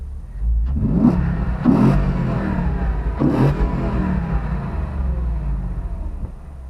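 A Jeep Wrangler with an LT 6.2 V8 engine revs hard, three sharp throttle blips in quick succession over a deep rumbling idle, loud and close, settling back down at the end.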